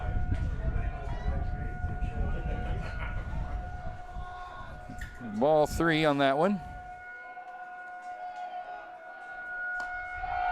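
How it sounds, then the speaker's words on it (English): A weekly tornado siren test at an Arkansas high school baseball tournament: a steady, sustained wail drones faintly under play-by-play commentary and ballpark noise, with a brief louder burst of sound partway through. "There goes the annual tornado, or the weekly tornado siren test."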